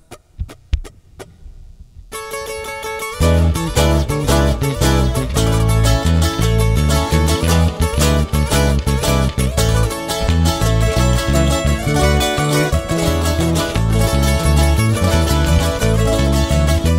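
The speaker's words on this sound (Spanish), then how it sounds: "Vamos a ver por este bonito corrido." A live band plays a Mexican corrido: a sparse plucked intro gives way to full, loud ensemble playing with a steady throbbing bass pulse and rhythmic strummed accompaniment, no talk over it.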